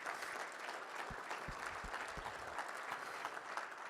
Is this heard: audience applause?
yes